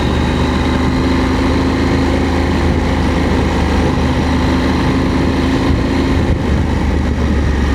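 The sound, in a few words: KTM 890 SMT motorcycle riding with pillion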